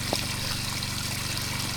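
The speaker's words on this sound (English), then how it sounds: "it just has to keep pumping water until it clears out." A well pump in Alaska discharging silty water in a steady, close trickle and splash with a faint rhythmic motor throb underneath.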